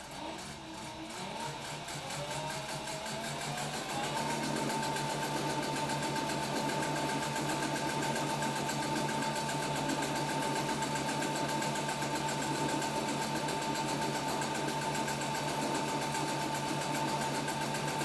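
A sewing machine stitches down the edges of a child-size backpack, running as a steady, continuous whir with a constant motor hum that keeps going without pause for the whole stretch, close up and alone.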